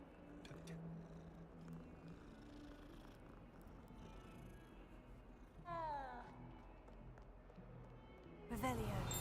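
Cats in the Hogwarts Legacy video game purr and meow, with short rising mews near the end over a steady low hum, while people talk throughout.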